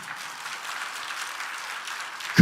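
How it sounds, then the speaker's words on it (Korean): A church congregation applauds during a sermon, an even, moderately loud patter of many hands that ends in a sudden low thump. "박수 치면 세게 치시기 바랍니다."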